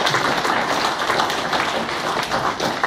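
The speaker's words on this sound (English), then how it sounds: "give Dominic a big round of applause" Audience applause for a presenter at a community broadband conference workshop, a dense steady patter of many hands clapping continuously throughout, fairly loud and even with no talk over it.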